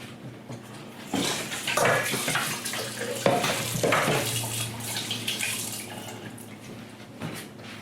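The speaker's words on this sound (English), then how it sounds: "get some water into your pot right away" Water runs steadily from a tap into a cooking pot while vegan haystacks are being made in a kitchen. The gushing, splashing stream starts abruptly and carries on loud and close, with no talking.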